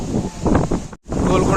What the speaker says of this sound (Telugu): చూడండి ఫుల్ గాలి పెడుతుంది